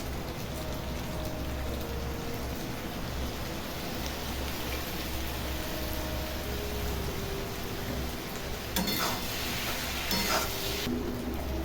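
Boiled pasta with soy sauce cooks in a pan, giving a steady low sizzle like light rain throughout, with a brief burst of scraping as it is stirred near the end.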